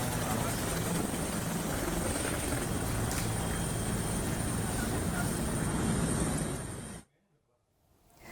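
Helicopter carrying evacuated workers to Timika, a loud steady rotor and engine roar that holds for about seven seconds before dropping away sharply, then swelling again at the end.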